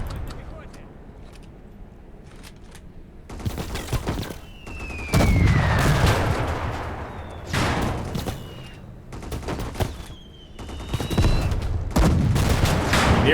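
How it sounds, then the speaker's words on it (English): Anti-tank rifle fire in the Call to Arms: Gates of Hell Eastern Front battle, sharp loud shots in bursts among explosions and battle noise, with a narrator talking over much of it. "And he's also taking shots from other anti-tank rifles."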